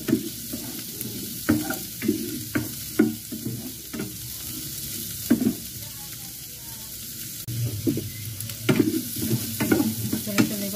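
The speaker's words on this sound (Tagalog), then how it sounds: "tuloy-tuloy ko ng pag-gisa ng sibuyas at saka bawang" Onion and garlic sautéing in a home kitchen pan, with steady soft sizzling broken by repeated scraping stirs of a utensil, close and moderately loud.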